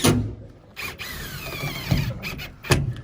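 Self-tapping exterior screws driven through small siding clips into metal studs, a nearby power drill giving short whirring bursts with a rising squeal, separated by brief pauses and clicks.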